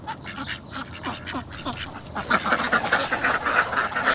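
Ducks quacking near a street food spot in Madinah, a series of close, raspy quacks, sparse at first and then denser and louder in a rapid overlapping burst.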